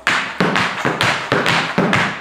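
Four crisp tap dance toe tips strike the floor in a steady even rhythm, each a sharp close tap with a short thud, heard alone.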